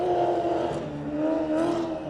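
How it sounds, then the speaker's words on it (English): A Gen 3 Supercar driven by Cam Waters laps the clay track at Sydney International Speedway, its engine a steady, loud droning roar with shifting pitch and no pause. "Supercar doing laps in Sydney"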